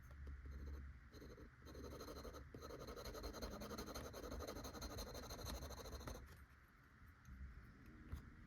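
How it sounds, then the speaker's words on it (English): A brass Kakimori dip nib pen scratches steadily across paper up close for about six seconds, then the sound drops to a softer rasp. "before using my Kakimori dip brass nib pen"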